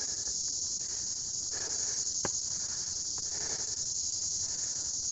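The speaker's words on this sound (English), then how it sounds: "They have this giant katydid here." Giant katydids in a humid Taipei tropical jungle make a steady, dense high-pitched buzzing drone that lasts the whole stretch, with a few brief sharp clicks above a faint ambient hiss.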